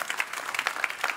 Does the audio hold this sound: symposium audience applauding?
yes